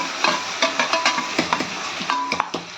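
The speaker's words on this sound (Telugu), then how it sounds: "ఆనియన్స్ కొంచెం బాగా బ్రౌన్ కలర్లో వచ్చేలాగా వేగాలన్నమాట" Chopped onions frying in hot oil with cumin seeds and dried red chillies for bitter gourd fry, a steady loud sizzle with clicking stirs and scrapes of a spatula in the pan, no voices.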